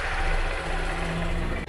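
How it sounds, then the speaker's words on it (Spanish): A Honda XR190 motorcycle engine runs at a steady idle, a continuous close low rumble with no talk, cutting off briefly at the very end. "Por lo tanto la ponemos en neutral y encendemos nuestra motocicleta."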